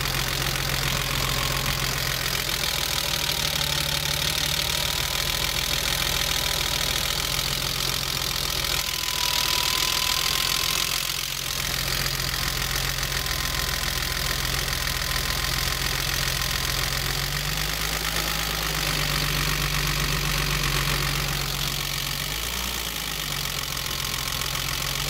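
BMW 325i E30 with the M20 engine idling at a raised idle, a steady, loud mechanical drone with a constant low hum and no voices, unchanged for the full length.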